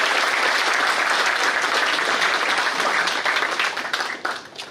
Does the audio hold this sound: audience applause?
yes